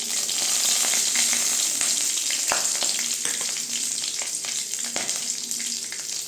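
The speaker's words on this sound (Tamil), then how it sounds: "எண்ணெய் ஊற்றி வச்சுருக்கேன். இப்போ பட்டை கிராம்புலாம் சேர்த்துக்கலாங்க. கறிவேப்பிலை சேர்த்துக்கலாங்க." Cinnamon, cloves and curry leaves fry in hot oil for a potato and cauliflower kuzhambu, giving a loud, steady sizzle throughout with occasional clinks and stirring taps from the pan.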